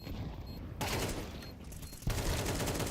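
Rapid bursts of gunfire from Counter-Strike during an IEM Chengdu 2025 esports match, dense and loud, with sharp volleys that shift and restart over a few seconds.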